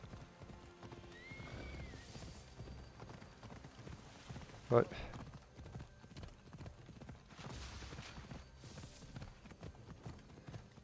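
Horse hooves clip-clop steadily in Assassin's Creed Odyssey, a continuous rhythmic trot under game ambience, with a brief voice and a sharp sound midway.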